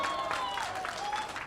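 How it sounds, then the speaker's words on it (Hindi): An audience claps at a film success celebration, a dense, continuous patter of applause with a voice or tone carrying over it. "शुरुआत जो है इस सेलिब्रेशन की आप लोगों की तालियों की गड़गड़ाहट से होनी चाहिए"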